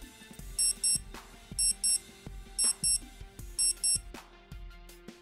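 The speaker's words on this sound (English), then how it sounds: "So we move on to our next function, which is the daily alarm. And we can test this by pressing and holding the forward button." A Casio AB-550 analog-digital data bank watch sounds its daily alarm: bursts of paired high electronic beeps repeating four times, crisp and close, over faint handling clicks, with no talking.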